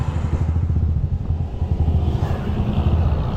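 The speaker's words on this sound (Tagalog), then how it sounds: "Kaso ang daming sasakyan, hindi tayo makatawid" Busy road traffic with many motorcycles and cars streaming past, too heavy to cross on foot; a loud, close, continuous engine rumble and clatter with no break.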